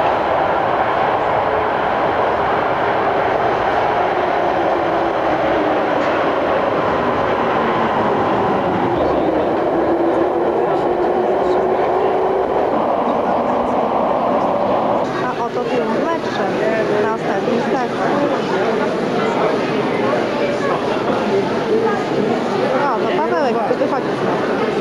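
A Warsaw metro train at Kabaty station, in 1995, rumbles and whines loudly and continuously as it moves through the station, with a rising tone as it accelerates, while people talk faintly nearby.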